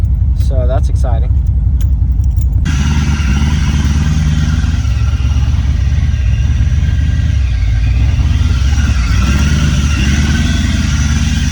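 A diesel truck engine with a 6.7 Powerstroke swap idles loudly and close in a steady low rumble, still running despite the key; a brief burst of voices and chirpy sounds comes at the start.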